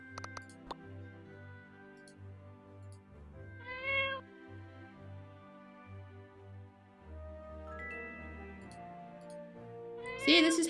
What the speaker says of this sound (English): There goes my kitty.